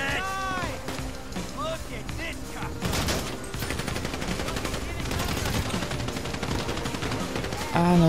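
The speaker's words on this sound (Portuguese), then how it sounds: "o cara tá me dando tiro da onde?" Rapid bursts of gunfire in GTA V crackle almost continuously, mixed with game effects, while a person talks over the shooting.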